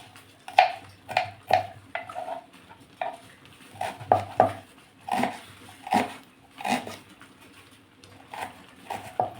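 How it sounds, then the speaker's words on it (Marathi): Onion being chopped finely with a knife for a dry cowpea-pod vegetable dish, a series of sharp, irregular taps on a board in quick clusters, close and clear with no talk. "जेवढा बारीक चिरता येईल तेवढा बारीक चिरून घ्या।"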